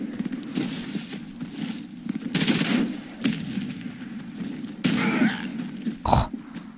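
Rapid automatic gunfire in the shooter video game Warface, bursts of fast firing over a steady game background, with a few sharper shots and impacts.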